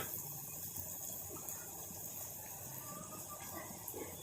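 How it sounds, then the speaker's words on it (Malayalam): Water is poured steadily into a pan of cooking drumstick leaves, a continuous close gushing splash with no pauses and no voices. "നന്നാക്കി ഇളക്കിയതിന് ശേഷം കുറച്ച് വെള്ളം ഒഴിച്ച് കൊടുക്കാം"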